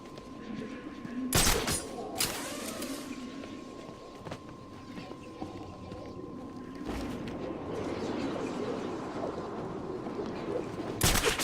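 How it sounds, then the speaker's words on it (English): Gunfire in Batman: Arkham City, a video game: sharp broadband shots crack out at about 1.5, 2.3, 6.9 and 11.2 seconds over a steady hum and background game ambience. "The gunshot came from the bell tower."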